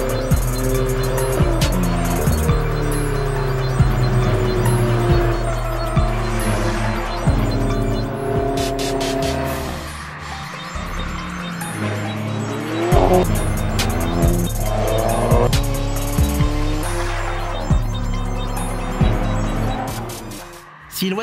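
A 2014 Alfa Romeo 4C sports car with launch control drives hard for about twenty seconds. The engine roars loudly and up close, its pitch rising and falling through gear changes, with tires squealing throughout.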